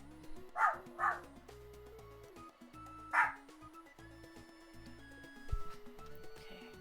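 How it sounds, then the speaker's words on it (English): Lupin the dog barks at the mailman in short bursts, a quick pair of yips followed by a single bark a couple of seconds later, heard indoors over a constant tonal background hum. "Lupin's barking at the mailman."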